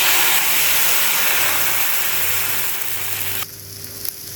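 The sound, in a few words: rava dosa batter sizzling on a hot griddle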